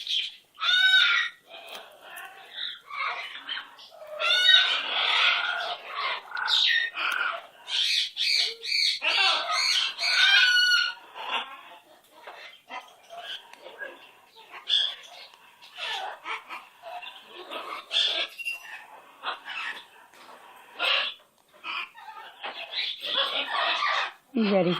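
Gonzo, a red-tailed parrot, gives bursts of hoots and squawks between stretches of soft, close talking, then falls quiet in short pauses.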